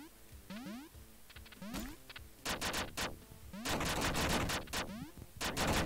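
Bursts of rapid gunfire in the video game Duck Game, sharp repeated shots layered with chirpy weapon and jump effects, growing denser and louder toward the end, with no talk.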